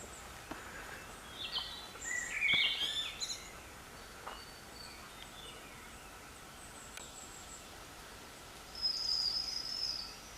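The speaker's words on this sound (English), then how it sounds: "And the blackbirds." Birds call in a bluebell wood, with brief high chirps and short song phrases in bursts near the start and end over quiet, faint woodland ambience.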